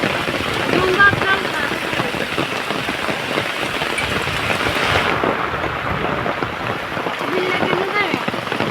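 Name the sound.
heavy rain falling in a village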